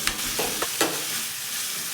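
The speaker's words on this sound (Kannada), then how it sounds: "ಸ್ವಲ್ಪ ಹಸಿ ವಾಸನೆ ಹೋಗೋ ತನಕ ಫ್ರೈ ಮಾಡ್ಕೋಬೇಕು." Ingredients fry and are stirred in a pan for a curd-based ash gourd curry, with a steady sizzle and a few brisk scraping strokes near the start, close and clear with no talking.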